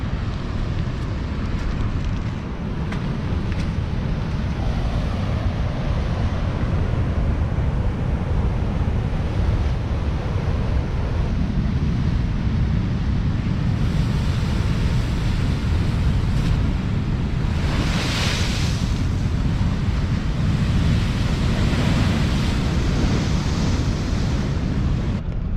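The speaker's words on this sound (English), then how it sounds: "Big seas out there, huge waves" Big ocean waves crash and surge on an exposed stretch of the Moroccan coast, a continuous loud roar of surf mixed with heavy wind buffeting, no voices.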